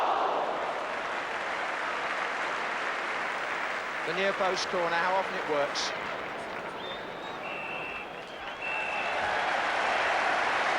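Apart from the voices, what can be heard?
football crowd applauding Manchester United at half-time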